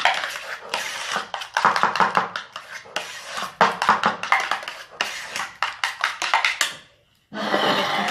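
Yogurt mixed in a bowl for cake batter: a rapid run of close scraping and tapping strokes of a utensil against the bowl, briefly pausing before resuming.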